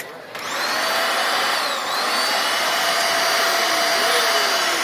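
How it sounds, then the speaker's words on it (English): Several Dyson vacuum cleaners run steadily as a sound-art performance, a loud sustained whirring roar with faint whistling tones gliding up and down, starting abruptly after a brief moment and continuing without talk. "So she's playing the Dysons."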